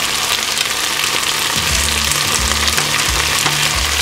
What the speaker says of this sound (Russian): Наша картошечка жарится